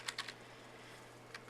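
Keys on a computer keyboard are tapped in a quiet room: a quick run of three soft clicks, a pause, then two more, all close and faint.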